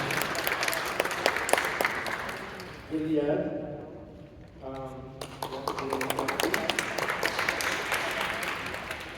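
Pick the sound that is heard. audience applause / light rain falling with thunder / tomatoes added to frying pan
audience applause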